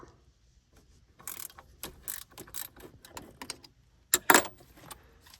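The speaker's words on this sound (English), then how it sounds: "First, I'm going to loosen off this pulley nut." A wrench loosens the AC compressor pulley nut on a Toyota Hiace, producing close, irregular metallic clicks and ratcheting clatter, with a sharper jangle near the end.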